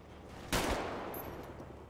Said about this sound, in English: Hey, chill with the shooting, chill with the shooting